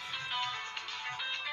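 A phone ringtone chimes in the background during a casual livestream chat, a steady bright electronic tone sustained through the moment at moderate volume.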